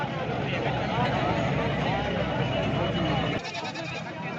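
Goats bleating at a busy livestock market in Dera Ghazi Khan, steady overlapping calls over dense crowd noise and nearby talk, fairly loud throughout.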